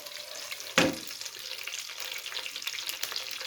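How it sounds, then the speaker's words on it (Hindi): Cumin seeds frying in a pan for a fish-style masala potato dish, a steady close sizzle with a brief sharp clatter near the start and no talking. "ज़ीरा लिया, इसको थोड़ा सा फ्राई किया।"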